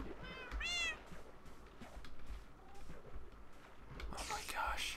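Several game cat meows ring out over a steady background hum, with a short burst of chirpy cat calls near the end.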